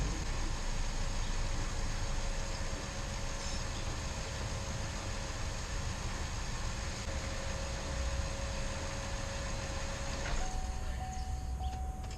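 A car engine idles after work by a mobile mechanic, left running a few minutes before its fuel and air ratio is checked. It gives a steady, unbroken rumbling hum with a faint constant tone and no talking.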